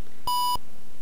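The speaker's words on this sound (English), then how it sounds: "Oh god, that's a loud beep." A single loud electronic beep from a computer booting Windows 1.0 beta, a steady high tone lasting about a third of a second, then quiet.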